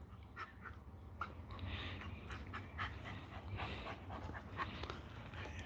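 A dog pants nearby in quick, rhythmic breaths, with an occasional faint whine mixed in.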